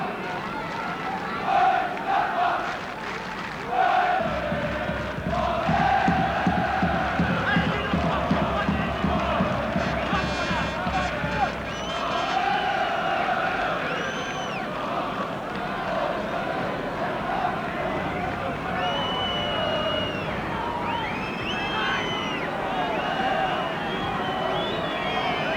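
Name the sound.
football crowd of Mönchengladbach supporters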